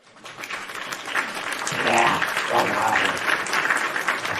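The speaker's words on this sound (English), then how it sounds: "you're getting a round of applause" A crowd at a live wrestling show applauds, a dense, steady clapping that swells over a few seconds with faint voices mixed in.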